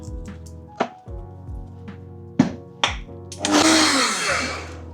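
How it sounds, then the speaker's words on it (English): A blender grinds dehydrated onion into homemade onion powder, starting with a few sharp taps and thunks, then roaring loudly and steadily at close range for the last second and a half. "So we pop this in our blender."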